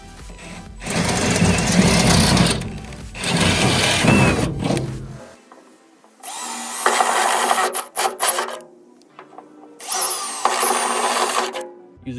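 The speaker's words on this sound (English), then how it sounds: "Now I can take my step bit on the drill" A power drill with a step bit bores bolt holes through a trailer, running in several long, loud grinding bursts separated by brief pauses.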